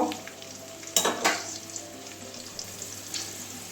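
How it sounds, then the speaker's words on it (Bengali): Ivy gourd (kundri) frying in hot oil gives a steady crackling sizzle, with a couple of sharp utensil clinks near one second. It is close and moderately loud, with no talking. "চার মিনিটের জন্য কুন্দিটাকে ভেজে নেবো"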